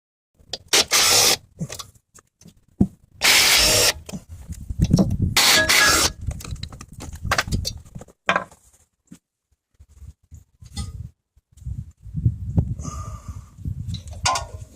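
A wire brush scrubs rust off the front brake rotor and brake assembly of a Lexus ES300, loud raspy strokes in uneven bursts separated by pauses and quieter scraping, close up with no talk.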